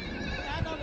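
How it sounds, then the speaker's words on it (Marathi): A horse gives a brief, loud whinny up close on a dusty, windy mountain trail on the Amarnath Yatra route from Panchatarni to the holy cave. "ते घोडे पण जाम ओरडते"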